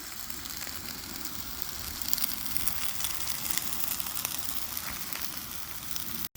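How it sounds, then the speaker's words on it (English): Meatballs searing in hot oil in a skillet, giving a steady, dense sizzle that rises slightly and then holds at a constant level, with no voices over it. "and then I'll add the meatballs to the skillet."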